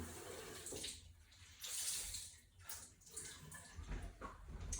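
Warm water runs from a tap to wet a towel during a facial treatment, a steady close splashing stream that swells and eases throughout, with no voices.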